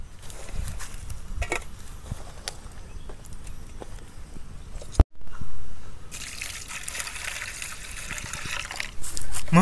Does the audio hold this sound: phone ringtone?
no